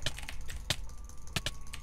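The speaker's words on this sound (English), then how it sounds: "butterfly clicking like I am right now" Computer mouse clicks during Minecraft PvP butterfly clicking: several sharp, close taps, some single and some in quick pairs, spread irregularly over a low background hum.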